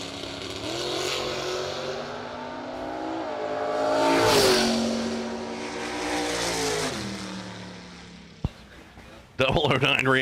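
Drag racing roadster on a bye run at a Cedar Falls drag strip, its engine note rising and falling as it accelerates away, fairly distant, under an announcer's voice, with a sharp click and a loud burst near the end.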